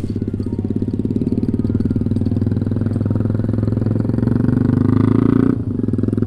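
A scooter-style motorcycle engine idles steadily and close by on a quiet rural lane, its low rhythmic throb running for several seconds before it cuts out abruptly near the end, followed by a brief quieter stretch.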